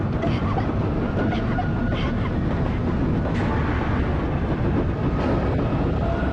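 A train runs in a horror movie, a loud, dense, continuous rumble and clatter of rolling wagons with no break, no voices over it.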